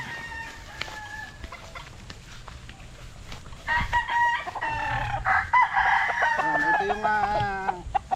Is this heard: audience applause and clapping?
no